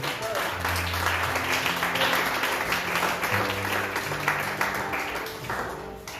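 A church congregation applauding, steady dense clapping throughout, mixed with voices and a sustained musical or vocal tone underneath.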